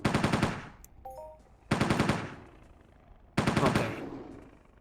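Three loud bursts of rapid automatic gunfire while hunting small yog on Monria in the Entropia Universe video game, each volley about a second long with a decaying tail and pauses between.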